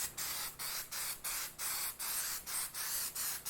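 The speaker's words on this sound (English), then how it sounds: "what I've got here is Duplicolor Prep Spray Grease and Wax Remover." Duplicolor Prep Spray grease and wax remover hissing from an aerosol can onto small areas of a Mazda RX3 interior during headliner restoration: about eight short, close, steady bursts in an even rhythm, with no talking.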